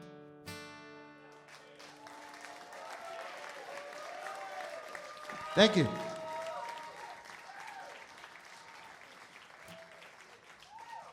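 An audience at a live acoustic music show claps after a song ends, a warm burst of applause that swells and fades over several seconds while the performer briefly speaks.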